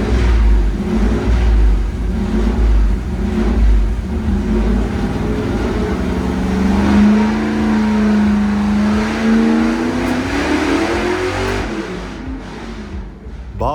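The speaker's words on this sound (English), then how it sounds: "The engine sounds incredibly crisp and much better on E85 than it did last night on gas." Car engine running on E85 ethanol fuel during its first dyno pull, a loud continuous mechanical drone that rises and sweeps in pitch as it revs, then eases off near the end.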